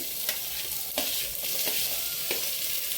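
Onion and green chilli fry in hot oil for a mushroom curry, a dense steady sizzle with periodic scraping stirs of a spatula in the pan, close and continuous with no talking.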